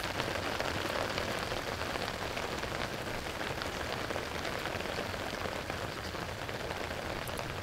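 Steady rain pours across a golf course during the back nine of a final tournament round, a dense, even hiss of drops hitting the surface that holds constant throughout without a break.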